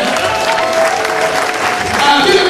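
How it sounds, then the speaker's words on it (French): A church congregation applauds its pastor during a New Year's Eve worship service, loud sustained clapping mixed with voices and a lingering musical tone. "On acclame plus fort pour notre pasteur humain."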